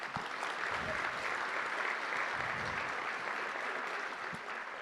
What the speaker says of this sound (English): So let's one more round of applause.